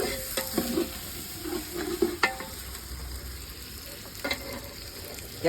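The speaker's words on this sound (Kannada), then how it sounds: "ಇವಾಗ ಗ್ರೀನ್ ಪೇಸ್ಟ್ ಅನ್ನು ಮಾಡಿಕೊಂಡಿರುವುದನ್ನು ಹಾಕೋಣ." Green paste for biryani added to a hot pan, sizzling steadily while a spoon stirs and scrapes with intermittent clinks and bursts of frying noise.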